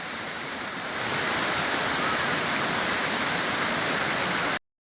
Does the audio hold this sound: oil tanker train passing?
no